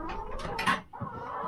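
Chickens clucking near a feeder during farm chores, a few close, clustered calls over a busy background of rustling and low noise.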